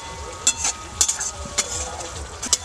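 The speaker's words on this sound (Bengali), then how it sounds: "মশলাটা আমার ভালো করে কষাতে হবে, যাবতলে মশলা থেকে তেল না ছেড়ে দিচ্ছে" Spice paste fried in oil while being stirred for a Bengali pangas fish curry: a close, steady sizzle broken by several sharp, regular scraping strokes of a spatula in the pan, with no talking.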